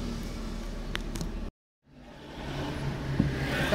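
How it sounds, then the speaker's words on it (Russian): Trucks roll along a narrow residential street, a steady low road rumble that cuts out abruptly into a brief silence, then a motor builds back gradually and grows louder, close by. "Такая улочка узенькая, а проходит грузовой транспорт."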